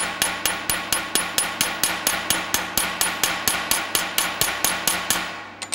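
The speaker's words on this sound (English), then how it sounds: "I'm going to use the crown side of my hammer, and I'm just going to tap that up" Rapid, evenly spaced taps from the crown side of a hammer ring out sharply on a metal car body panel during butt welding work, a steady run of about twenty close, bright strikes with no talking.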